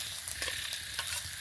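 Spices and grated boiled eggs are stirred in a frying pan, a steady close sizzle with soft scraping strokes of a spatula at a few points.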